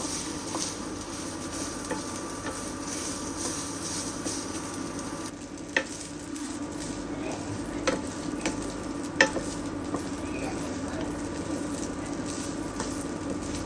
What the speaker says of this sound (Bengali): এখন চালটা ভালোভাবে ভেজে নেব, তারপর গরম পানি দেব